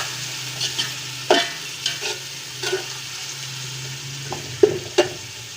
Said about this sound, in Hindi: इसको पेस्ट को अच्छी तरह से मिक्स करते हैं।